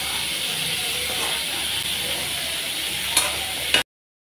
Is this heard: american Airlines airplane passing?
no